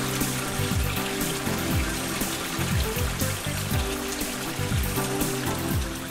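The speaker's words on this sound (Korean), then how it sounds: "물 소리 들리는데? 개울이 있어요." Water flowing in a small stream below a house converted from rice paddy into a pond garden, a steady close rushing and trickling with no voices.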